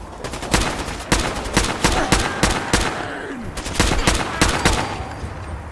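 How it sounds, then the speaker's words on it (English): Assault rifle gunfire in the Fallout 4 video game: a series of loud, sharp shots in short bursts with brief pauses, continuing throughout. "Where's my assault rifle?"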